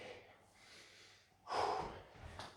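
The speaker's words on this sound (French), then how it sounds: "C'est normal que la respiration s'accélère." Heavy, quickened breathing during a children's cardio workout session, a quiet run of breaths building to a louder, sharper exhale or snort-like breath near the middle and another short one just before the end.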